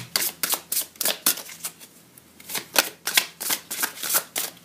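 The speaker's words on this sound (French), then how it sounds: "On va rebattre les cartes" Tarot cards being shuffled by hand in a series of quick riffling bursts, crisp and close, with brief pauses between rounds and no talking.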